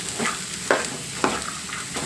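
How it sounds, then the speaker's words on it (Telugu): Carrot pieces fry in oil with tempering spices while being turned and stirred. Steady sizzling runs underneath, and a few crisp utensil scrapes strike against the pan at intervals. "ముందుగా కట్ చేసి పెట్టుకున్న క్యారెట్ ముక్కలను కూడా ఈ ఆయిల్లో వేసి ఈ పోపు క్యారెట్ ముక్కలన్నీ బాగా కలిసేంత వరకు కిందకి పైకి బాగా తిరగదిప్పుకోవాలి"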